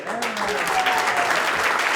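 An audience applauds the first-prize winner of the 2021 Charente-Maritime oyster shuckers' competition, steady and dense throughout, with a voice speaking briefly over the clapping.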